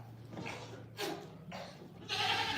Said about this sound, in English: I thought one of the goats opened the door, Willow.